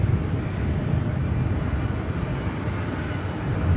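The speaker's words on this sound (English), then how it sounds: "Next arrival is Delta Airlines Flight 2312, coming in from Portland on an old Northwest A319." A Delta Airlines Airbus A319, formerly flown by Northwest, arrives at LAX from Portland in fog, its engines making a steady, distant, moderately loud whine and rumble with no voices.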